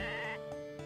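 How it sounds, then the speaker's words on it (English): A sheep in the farming game Story of Seasons gives a short, nasal bleat that wavers and trails off, with a couple of faint synthetic blips after it. "Shut up, sheep."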